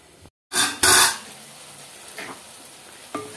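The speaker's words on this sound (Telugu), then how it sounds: "టమాటాలు చూసారండి చక్కగా వేగిపోయినాయి" Tomatoes frying in a pan, a burst of loud sizzling after a brief dropout, then a quieter simmering hiss with a couple of faint stirring scrapes, close up and without voices.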